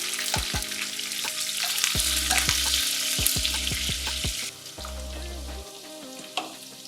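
Onions and mustard seeds spitting in very hot oil for a Telugu potato and broad bean fry, a loud close crackle with sharp pops and stirring knocks; the sizzle drops to a softer hiss partway through.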